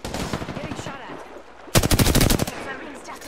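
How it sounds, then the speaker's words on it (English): Video game gunfire bursts out as a loud, rapid string of automatic shots lasting under a second, following a stretch of muffled background voices. "Dude, I shot her in the fucking head."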